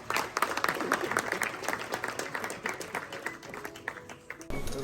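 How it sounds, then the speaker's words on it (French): Audience applause at a live poker tournament stage in Grenoble greets a player's elimination, dense clapping that stays steady and moderately loud for several seconds, with voices mixed in. "Vous pouvez l'applaudir"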